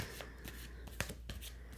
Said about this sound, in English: just like kind of meditate while I'm shuffling the cards